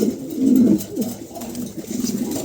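A pair of Hungarian house pigeons coo in loud, close, low rolling calls, one swelling phrase followed by softer repeated coos.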